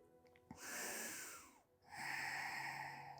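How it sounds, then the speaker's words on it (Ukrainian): Deep, slow breathing during a relaxing yoga session, with a long, close inhale followed after a brief pause by an equally full, audible exhale, heard alone without talk. "Заключний, глибокий вдих, ще трошки більше з видихом."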